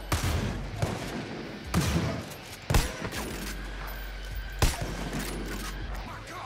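Rapid gunfire aimed at a turkey in the video game Far Cry New Dawn, a few loud sharp shots breaking through a constant dense layer of game noise and music.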